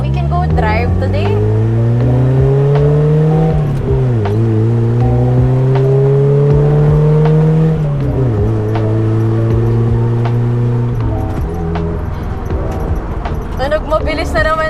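A Mitsubishi Lancer project car drives along city streets, its engine droning loud and close from inside the cabin, revs rising and dropping through repeated gear changes.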